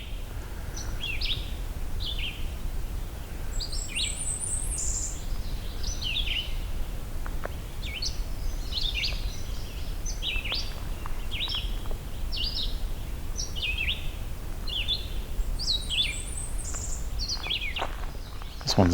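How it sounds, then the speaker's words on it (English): A Blackburnian warbler sings close by in a swamp, repeating thin, very high-pitched song phrases every second or two over a soft background hiss. "An even closer black-burning warbler than last time."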